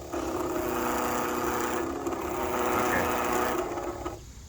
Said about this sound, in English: No, it's a rotary pump. It's sitting there spinning around with vanes and stuff.